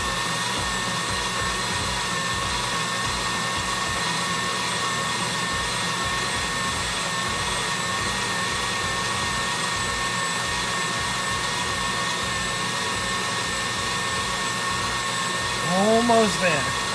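An electric mixer whips dalgona coffee with a steady, loud, high whirring drone that runs unbroken throughout, with a short voice near the end.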